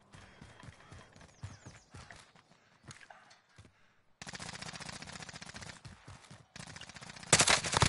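Gunfire in the Modern Warfare video game: scattered shots and clatter early on, then dense sustained automatic fire in the second half, with a loud close burst near the end.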